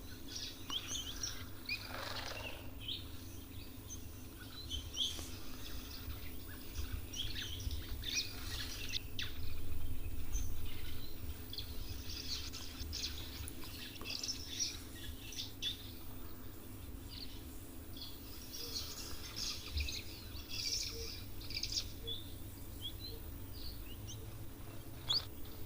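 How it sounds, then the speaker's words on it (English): Blue waxbills and fire finches chirp and twitter at a waterhole in quick, high bursts, several calls overlapping at a moderate distance over a steady low background hum. "Quite a few different bird species there. The blue waxbills, the fire finches."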